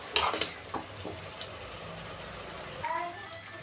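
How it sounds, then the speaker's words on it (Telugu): Vegetable curry frying in a pan gives a soft, steady sizzle under a few spoon scrapes and clinks, with a brief hiss near the end, all fairly quiet. "బాగా వేగించుకున్నాము."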